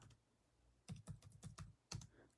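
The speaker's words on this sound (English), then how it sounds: "Sorry, I'm typing this with one hand." Close-up clatter of keys on a computer keyboard, a quick burst of irregular keystrokes after a quiet start, then a final pair of taps.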